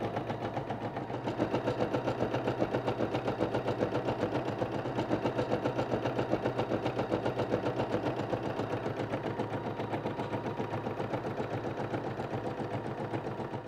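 An Eversewn embroidery machine stitches a design with a fast, even mechanical chatter that repeats steadily at moderate volume, with no talking over it.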